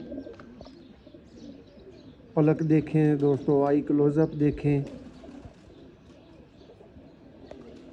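Pigeons offered as breeders coo in a run of low, rounded calls in the middle of the clip, fairly close and clear, with someone talking before and after.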